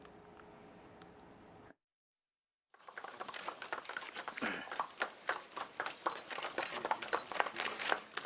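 Horses carrying COVID-19 task force riders near Mount Bromo in Probolinggo, East Java, clip-clop with a steady run of sharp hoof strikes on hard ground, beginning after a short silence and growing closer and louder.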